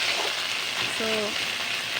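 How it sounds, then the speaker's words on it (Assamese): Onions and chickpeas frying in a pan, a steady close sizzle with a brief tonal clink partway through and no talking. "অলপ সময় পিঁয়াজ আৰু বুটকেইটা ভাজি থাকিম।"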